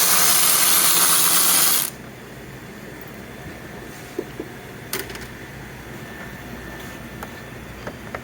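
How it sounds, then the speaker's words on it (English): A 10 mm socket ratchet loosens the grille bolts on a 2015 Ford Explorer. Loud broadband noise comes first, then quieter scattered clicks and ticks from the tool. "So remove the bolts on top of the grille. That's a 10 millimeter socket."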